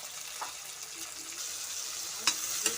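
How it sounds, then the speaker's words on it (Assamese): Tomatoes frying and softening in a pan for an Assamese chicken curry, a steady soft sizzle with a couple of sharp stir or spatter clicks near the end, no talk. "বিলাহীখিনি ভালকৈ গলাই ল'ব লাগিব"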